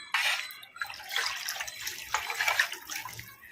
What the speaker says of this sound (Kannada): ಅದಕ್ಕೆ ಇನ್ನು ಸ್ವಲ್ಪ ನೀರು ಹಾಕೋಣ.